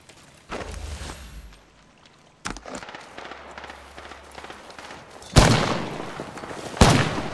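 Gunfire in the Apex Legends video game: a couple of loud, sharp broadband bursts near the end, with quieter crackling shots and rumbling earlier.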